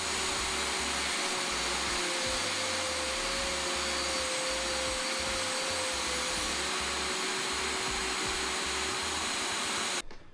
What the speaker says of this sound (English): turn the saw on and your vacuum on to suck up the carbon dust